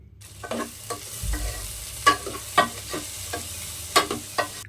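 Medium tomato pieces fry for Andhra-style sambar in a sizzling pan, with repeated clacks and scrapes of a ladle stirring close by, the strokes coming in an irregular rhythm over continuous hiss, without talk.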